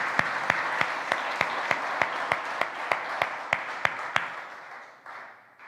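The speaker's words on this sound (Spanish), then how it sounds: "Le damos otro aplauso a Jesús." A congregation at a church service claps in unison, a regular rhythmic beat of about fifteen sharp claps over a bed of scattered applause, fading toward the end.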